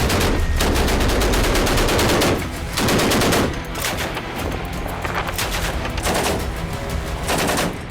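Live naval firing from cannons and guns at sea during Russian military drills, a loud continuous barrage of rapid bursts that drops briefly and then resumes at close range.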